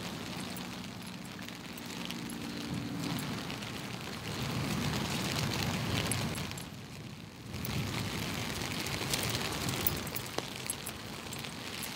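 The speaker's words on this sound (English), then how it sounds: "Still thundering." Distant thunder rolls in long, deep rumbles that swell and fade twice during a heavy downpour, with a broad wash of rain noise underneath.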